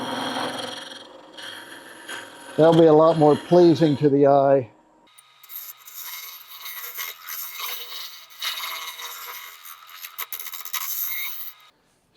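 A Shopsmith lathe turns the inside of an ash bud vase, giving a steady scraping whir that drops out partway through, with someone speaking briefly between stretches of cutting.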